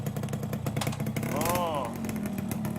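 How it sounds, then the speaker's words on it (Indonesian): A motorcycle engine idles steadily after being repaired at a roadside workshop, its close, continuous rumble carrying under people talking. "Motor saya kok jadi malah hidup gini?"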